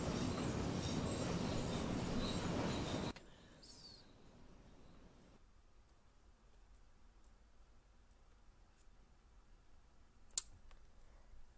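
Train running in the OMSI 2 bus simulator: a loud, dense rumble for about three seconds that cuts off abruptly, leaving a faint hum with a single sharp click near the end.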